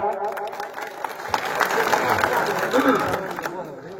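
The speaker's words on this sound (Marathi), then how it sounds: "सरांसाठी टाळ्या होऊ द्या एकदा" A crowd at a political rally in Karmala breaks into brief applause for a former MLA, the clapping rising and mixing with voices in a short burst.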